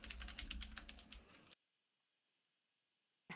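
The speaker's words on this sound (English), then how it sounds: "He's ferociously typing." Rapid, dense keystrokes on a computer keyboard, loud and close for about a second and a half, then near silence before a brief burst of clicks at the end.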